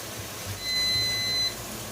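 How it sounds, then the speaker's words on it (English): A kitchen timer goes off while a T-bone steak and potatoes cook, giving a single steady electronic beep tone that holds for nearly a second over low background room noise. "now that our timer has gone off"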